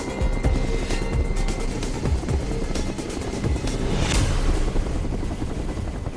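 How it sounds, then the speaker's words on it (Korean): A helicopter hauls a marker stone up to a rocky 800 m peak for mountain trail construction, its rotor a steady, loud, close drone with a rapid chopping pulse throughout. "헬기가 표지석을 싣고 올 동안"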